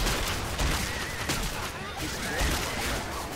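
Dense, muffled gunfire in Left 4 Dead 2, a continuous rattle of overlapping shots at moderate loudness with a few sharper cracks, under background voices.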